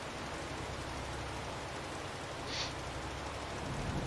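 Rain in Farming Simulator 22 pours in a dense, even hiss with a low rumble beneath, a brief brighter patter rising partway through and no talking.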